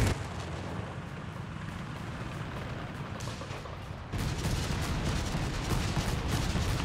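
Artillery fire from a mortar half-track lobbing incendiary rounds in Company of Heroes 3 rumbles as a dense, continuous barrage of booms and crackling impacts, growing louder and harsher in the second half.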